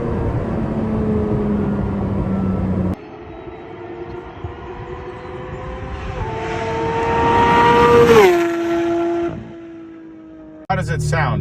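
Porsche 992 GT3 fitted with a loud Dundon 100% titanium exhaust muffler, engine droning through long gear pulls with rising pitch, a shift break, then a climb to a high-revving peak before lifting off; strong and close.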